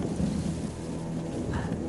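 A thunderstorm approaching in open highland country, heard as a steady, loud rumbling wash of low wind and distant thunder with no voices over it.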